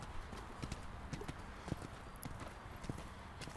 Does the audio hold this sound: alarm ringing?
no